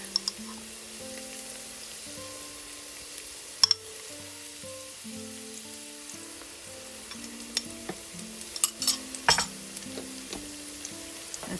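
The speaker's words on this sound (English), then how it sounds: "Let that just barely cook. Just till you can smell it, because you don't want to burn your garlic." Garlic sizzles in a pot for potato leek soup while a utensil stirs it, giving a steady crackle of frying with scattered clicks and scrapes that grow busier toward the end.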